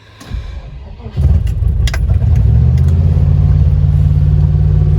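A Land Rover Discovery engine cranks and catches in a shop, settling into a loud, steady idle that runs close up for several seconds after a brief start-up rumble.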